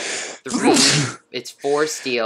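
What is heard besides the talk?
sneeze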